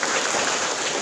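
An audience claps steadily at a Thai business gathering, a dense, even wash of applause filling the whole moment without pauses or voices.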